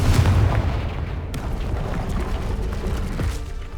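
A Confringo fire-blast spell in Hogwarts Legacy lands with a loud, booming explosion that rolls on as a rumbling burst for a few seconds, with no voices over it.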